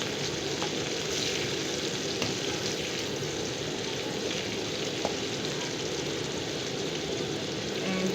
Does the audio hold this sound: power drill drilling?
no